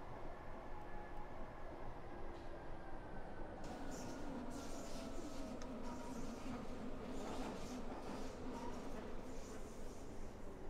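Berlin U-Bahn U4 train in OMSI 2 running at about 60 to 65 km/h, a steady continuous rumble of motors and wheels on rails with faint hiss higher up, no voices.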